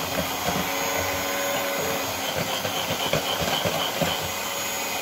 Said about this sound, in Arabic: نهز الطراب ديالي ونجلس نطرب هاد المكونات